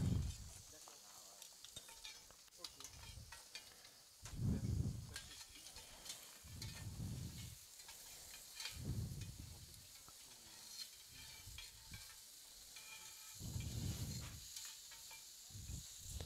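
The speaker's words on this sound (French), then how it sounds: "on vérifie les oignons de la plancha. On les retourne." Onions sizzling on a plancha griddle for caramelized onion samosas, a soft steady hiss broken by several low scraping thumps as they are turned and stirred, close and fairly quiet with no talking.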